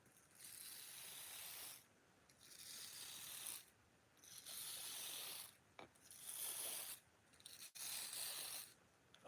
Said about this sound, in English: this is our steel brush. It's a softer bristle.